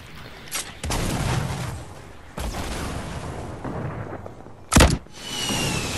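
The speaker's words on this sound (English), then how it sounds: "Of course they've got a fucking rocket launcher." Rocket launcher fire in a video game: heavy booming blasts with long rumbling tails, one sharp loud explosion standing out near the end amid ongoing battle noise.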